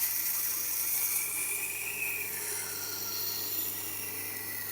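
A knife being rough-ground on a Tormek wet sharpener, a steady, faint grinding hiss with a thin scraping rasp that shifts slightly as the blade moves across the stone.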